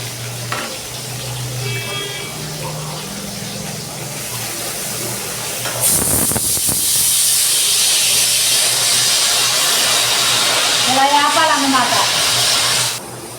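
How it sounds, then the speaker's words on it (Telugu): Dried salted fish fries in oil, with a steady, loud hiss of sizzling that swells and holds through the second half, preceded by a quieter stretch with a faint voice. "ఇదిగో ఇలా వేపుకోవాలి చేప ఫస్ట్ వేపుకోవాలి బాగా కడిగి పెట్టిన తర్వాత ఆయిల్లో"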